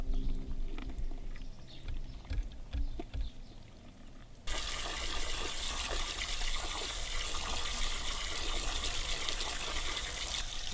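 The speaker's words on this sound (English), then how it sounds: "Washing the sand off the crawfish." Water gushes steadily over crawfish to rinse off sand, a loud continuous wash that starts abruptly partway through after a quieter stretch of faint background noise.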